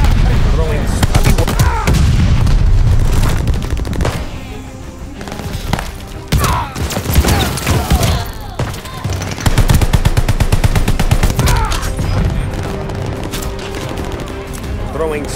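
Rapid gunfire from a Call of Duty team deathmatch rattles almost without pause in loud automatic bursts and overlapping shots, with dull thuds mixed into the dense, close-up barrage.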